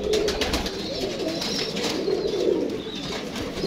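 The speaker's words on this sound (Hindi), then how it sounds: "ये देखें नहीं, ये उनकी उड़ी हुई कबूतरी है।" A female golden pigeon coos in soft, repeated throaty calls, close and fairly loud, with no talking over it.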